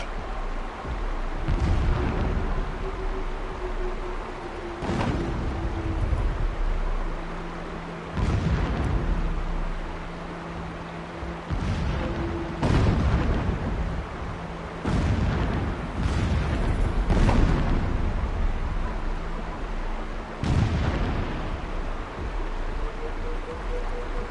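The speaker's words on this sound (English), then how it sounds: "Explosions in the distance." Distant explosions in the Horizon Zero Dawn video game sound as a series of deep booming blasts at irregular intervals over a low rumbling ambience, with no talk.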